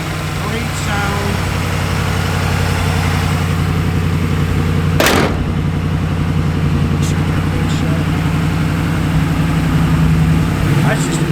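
A 1951 Ford F1 truck with a small block V8 idles close up, giving a steady, loud, deep rumble with one sharp click partway through. Someone talks over the engine.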